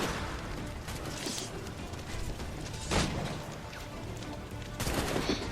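Gunfire from the Assassin's Creed III video game, set in colonial America among low one- and two-story buildings: a steady crackle of distant shots with a few louder bursts, heard alone with no talk.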